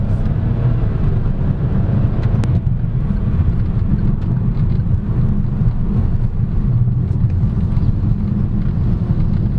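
A 2022 Geely Coolray Sport Limited crossover drives in sport mode, a dense steady engine and road roar with wind rush heard from inside the cabin, loud and unbroken throughout.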